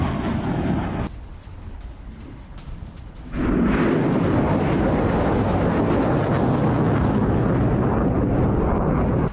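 Hamas rockets, long-range Ayyash 250s, are fired at Eilat in Israel. A low rumble gives way to a sudden loud, sustained roaring blast that keeps going to the end.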